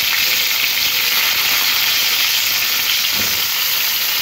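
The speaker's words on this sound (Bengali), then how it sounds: "ওই একই তেলের মধ্যে পটলগুলো ভাজতে হবে।" Round slices of pointed gourd (potol) fry in the same oil used for the fish, a loud, dense and steady hissing sizzle throughout with one faint stir near the end, no speech.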